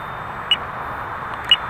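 Two short, sharp electronic timer beeps sound about a second apart over a steady broadband hum, such as an aircraft cockpit with engine noise in the background.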